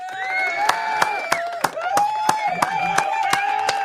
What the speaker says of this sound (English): Round of applause to Donald Trump.